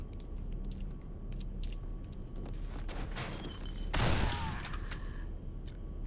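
A shotgun fires in the horror game Condemned: Criminal Origins, a single loud blast cutting through steady game ambience, with scattered faint clicks and thuds around it and no talking.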